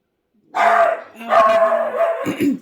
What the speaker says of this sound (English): Otto, quit barking at nothing, honey.